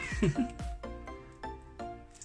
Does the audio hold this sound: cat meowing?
yes